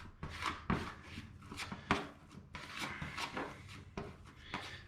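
Floor leveling compound is stirred in a bucket, giving repeated scraping and knocking strokes at an irregular rhythm. The sound is close and moderately quiet, with no voice over it.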